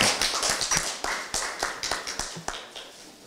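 A small audience at a Democratic Party committee chairs' meeting claps during a flower presentation, a crisp and irregular patter of hand claps with clear individual strikes close by, thinning slightly toward the end.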